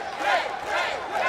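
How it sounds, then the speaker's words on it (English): A wrestling crowd at the ROH Best in the World 2021 event gives a brief, loud, roaring swell that rises and falls in about a second, with a voice likely mixed in. "The roar of the crowd behind moves like that."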